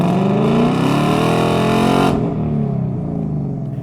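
A Ford Mustang S550 with an H-pipe exhaust rumbles with a deep, steady muscle-car drone, loud and close, then cuts off sharply partway through and fades into a lower tail.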